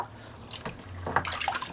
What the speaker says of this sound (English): let's empty good old Sigmund the Sea Monster sink